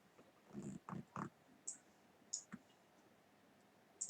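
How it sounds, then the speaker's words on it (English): Several computer mouse right-clicks while adding a decal in SolidWorks, a few quick clicks in a short cluster early on, then isolated soft clicks spaced out, close and quiet with no talking. "I right click and choose Add Decal"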